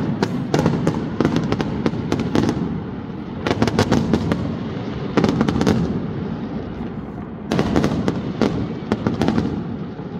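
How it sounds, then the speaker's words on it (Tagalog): Fireworks bursting over Plaza de Toros at night in repeated volleys of sharp crackling pops and booms, loud and continuous with brief lulls between clusters. "Fireworks."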